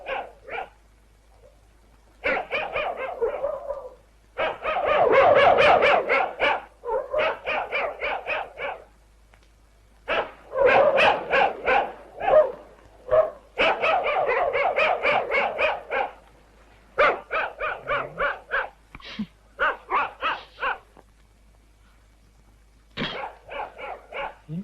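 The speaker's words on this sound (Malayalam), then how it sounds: "ഭൂമിയിൽ ഈ പട്ടികൾക്ക് മാത്രമേ നമ്മളെ കാണാൻ കഴിയൂ. അത് വല്ലാതെ കുരയ്ക്കുന്നില്ല." Dogs bark in repeated loud bursts and volleys that run through the whole stretch, close by with brief pauses between runs and occasional whimpering yips mixed in.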